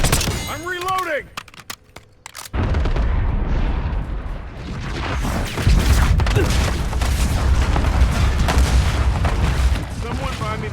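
Rapid gunfire and booming explosions from the Warzone battle royale video game, dense and continuous after a brief quieter stretch, with voices shouting over the combat.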